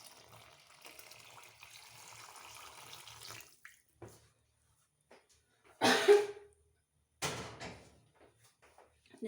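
Warm water poured into a bowl of dough ingredients with oil for light couscous-style bread, a brief splashing burst standing out between quiet kitchen handling sounds and a later short clatter.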